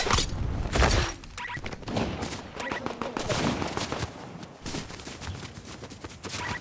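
Bursts of Fortnite gunfire crack out repeatedly in rapid, uneven volleys, loud and close, with short gaps between shots.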